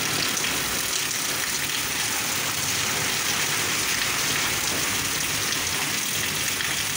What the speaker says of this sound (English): very heavy rain in Karachi,